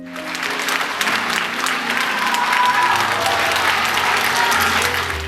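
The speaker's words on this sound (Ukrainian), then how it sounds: "Глядачі стоячи аплодували артистам" A theatre audience gives artists a sustained standing ovation, dense, steady clapping from a large crowd that holds at full strength throughout, with a low tone and a voice beneath.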